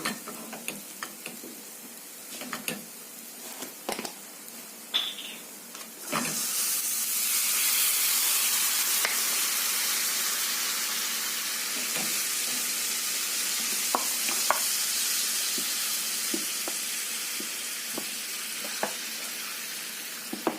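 Food stirred in a hot pan right after vinegar is poured in, for Egyptian koshari, bursts into a loud, steady hiss of steam and sizzle. Sporadic scraping clicks of the utensil sound over the top.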